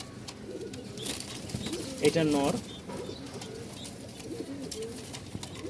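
A pigeon coos close by, a soft throaty burst amid low background noise, with someone speaking briefly.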